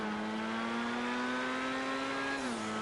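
A car in Grand Theft Auto Online holds a high, steady engine whine while accelerating toward top speed, loud and close, with the pitch dropping briefly near the end as it shifts.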